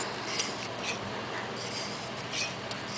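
A Lansky knife sharpening system's hone stroked backwards along a blade from the tip, giving a soft continuous rasping rub with faint repeated stroke swells, close and quiet with no voices.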